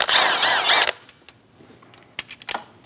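A 12mm bolt behind a Subaru Legacy power steering pump is removed: a short burst of ratcheting tool whirring up close, then quiet with scattered clicks and small metallic taps.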